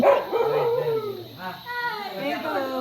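A dog gives a short, close run of yips and howling barks, with some voices mixed in.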